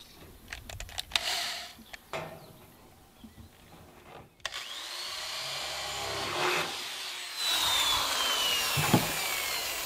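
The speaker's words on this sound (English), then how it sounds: "I'm going to start it by drilling a 1/4 inch hole with a plug-in drill." A corded electric drill bores a 1/4 inch hole through a metal stud. Clicks and knocks come first, then the motor whines up loudly and runs steadily in close view, with a rising tone near the end.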